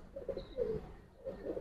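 A Giribaj pigeon of an old breed line coos in soft, throaty bursts, three or four rolling phrases close by, with no talk over it.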